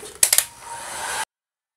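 Heat gun blowing hot air over the edges of Worbla thermoplastic sheet, a brief whooshing hiss after a few clicks, cutting off abruptly after about a second.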